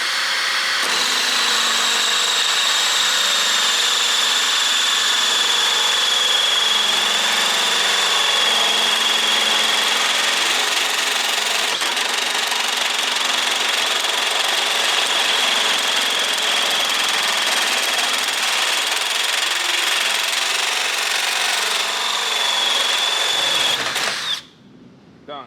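Long, loud, continuous whine of a pipe notcher cutting through a roll cage tube for a BMW E36 drift car, with a high grinding tone that holds steady for about twenty-four seconds before stopping abruptly.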